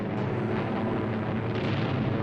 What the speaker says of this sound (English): the first wave hit the sand, with explosions and gunfire filling the air